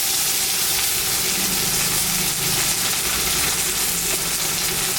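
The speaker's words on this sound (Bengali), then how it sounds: "পেঁয়াজটা ভাজা ভাজা হয়ে গেছে, আমি এখন সেদ্ধ করা আলুটা দিয়ে দিলাম।" Boiled potatoes dropped into a pan of fried onions set off a steady, hissing sizzle that runs loud and unbroken throughout, close by, with no voices.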